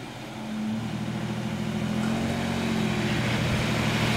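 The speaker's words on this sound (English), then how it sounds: "You can hear the tire spinning" Truck tire spinning as a vehicle climbs Truck Hill at Hollister SVRA off-road park: a loud, continuous engine drone and roaring spin that builds and holds steady, heard up close with no talking.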